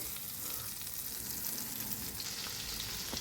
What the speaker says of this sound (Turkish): Tereyağını koyduk tavamıza.